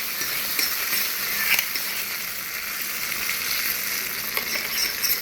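Hot tempering of seeds, chillies and curry leaves poured into spinach dal sizzles loudly and steadily, a close, continuous hiss with faint clinks and no talk.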